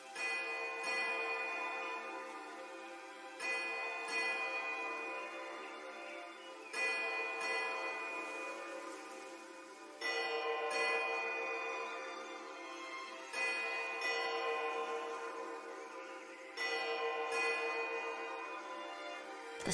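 Bells toll repeatedly in Pillars of Eternity 2, a steady sequence of resonant strikes every few seconds, each ringing and fading into the next, quiet and with no voices.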